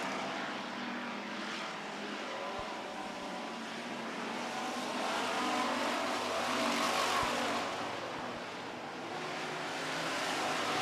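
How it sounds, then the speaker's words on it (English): Street stock race cars roar around a short oval track in a continuous broad engine drone that swells and fades as the pack passes, steady and fairly distant with no talk. "So Ray Holden, the body mightn't look so good, but the car's working all right"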